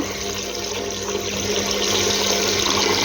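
Hot water running steadily from a tap, a loud, close, continuous rushing stream with no voices.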